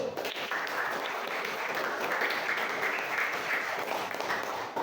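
A room full of teachers at an Indonesian education appreciation event claps together, a dense, steady burst of applause lasting several seconds, moderately distant.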